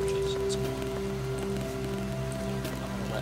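Hail patters steadily on a roof in the video game Starbound, a dense, even rattle of impacts under sustained background game music tones.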